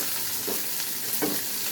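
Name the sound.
tempering spices spluttering in hot oil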